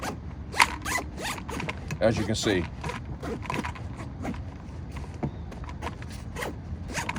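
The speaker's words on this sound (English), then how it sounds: "I have no problems zipping this down back and forth" A zipper on a Triple Aught Design Fast Pack EDC backpack is run back and forth in quick rasping strokes, close and fairly loud, with someone talking briefly over it.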